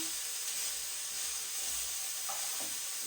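Margarine sizzles in a hot pan, a steady, bright frying hiss that holds at an even level throughout, with faint clinks in the background.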